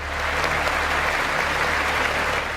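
Sustained applause at a presidential State of the Union-style speech, a dense even wash of many hands clapping at steady loudness from a large audience, with no talk over it.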